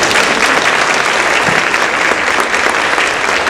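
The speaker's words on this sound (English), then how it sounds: "let's give him an applause, please" An audience at a health talk bursts into loud, dense applause for a guest speaker, a full uninterrupted roar of many hands clapping close by throughout.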